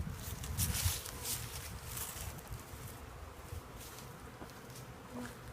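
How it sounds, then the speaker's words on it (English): A steady swarm of honeybees hums and buzzes close by while a package of bees is installed in a hive, continuous and fairly soft, with faint rustling and occasional knocks underneath. "So I put the rest of the bees right in the front."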